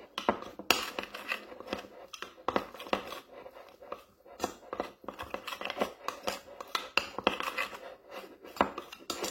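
Oat flour face mask being stirred in a bowl with a teaspoon, giving repeated close scraping and clinking strokes in an irregular rhythm throughout, with no talking.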